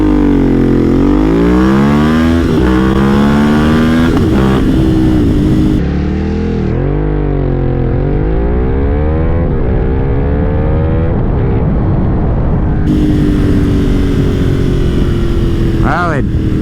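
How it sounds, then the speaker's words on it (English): A Ducati V-twin motorcycle launches hard from a standstill, its loud engine note climbing through several gear changes with rising and falling pitch sweeps, close and continuous throughout, with wind rush and a voice talking over it. "here we're doing the old 0 to 60 to see how this Ducati rips off the line"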